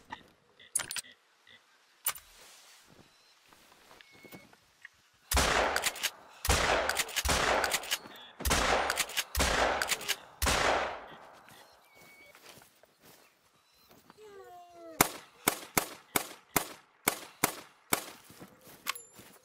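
Sharp gunshots in theHunter: Call of the Wild, fired at birds on the Revontuli Coast, come in loud separate bursts, then a fast run of shots near the end, with quieter rustling between them.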